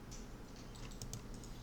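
Soft, quiet clicks of a computer keyboard as numbers are typed into software, a short run of light, irregular keystrokes close to the microphone.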